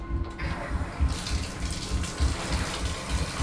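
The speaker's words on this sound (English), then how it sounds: "Let's check the pressure of the water." Water from a hotel bathroom shower runs in a steady, loud gush that splashes continuously and grows fuller after the first second.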